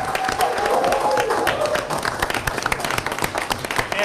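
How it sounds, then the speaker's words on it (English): Audience at a live team event gives a round of applause, with a burst of many clapping hands that thins into scattered claps over a few seconds, and a crowd murmur beneath. "Give them a round of applause, everybody."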